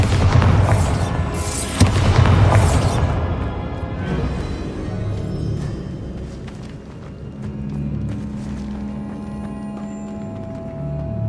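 A Bombarda spell explodes in the video game Hogwarts Legacy, with loud booming blasts and crashing debris in the first few seconds, then a rumbling fade over a low ambient game hum.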